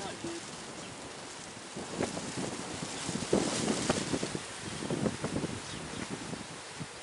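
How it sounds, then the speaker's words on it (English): Strong gusty wind blows outdoors during a beehive installation, a rough buffeting roar against the microphone that swells and dips over several seconds, with muffled voices underneath. "the wind changed direction and it just got real fucking windy"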